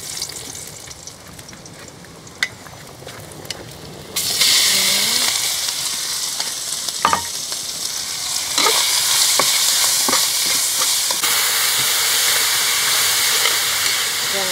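Garlic, meat and mushrooms fry loudly in a pan for congee, a steady sizzle that jumps louder midway as more goes in, with stirring clatter and scrapes throughout.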